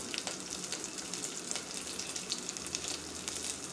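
Mustard seeds and curry leaves with green chillies and crushed garlic sizzling in hot oil, a steady close crackle and hiss with scattered sharp pops throughout.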